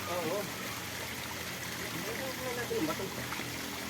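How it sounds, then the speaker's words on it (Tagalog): Steady running water streams and patters continuously, like a shower spraying, with faint voices murmuring underneath. "Ah, shower pala yan, Kuni."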